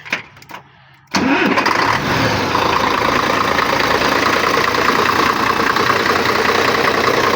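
A freshly overhauled MAN 26.414 truck diesel engine cranks and catches, then settles into a loud, steady rumbling idle that continues to the end.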